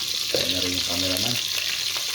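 Onion and garlic frying in a pan for Filipino pakbet, a continuous close hiss of frying oil. A faint stray voice sounds briefly underneath.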